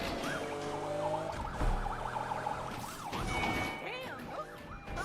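A wailing police siren in a video game sweeps up and down repeatedly over rumbling engine noise and road sounds, fairly steady in loudness, with no talking.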